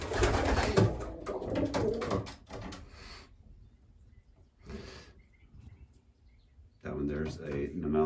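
Racing pigeons, breeders and a first round of young birds, coo in short bursts near the start, middle and end, with someone talking over them and quiet gaps between.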